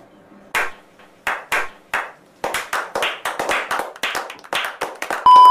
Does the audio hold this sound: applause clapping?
yes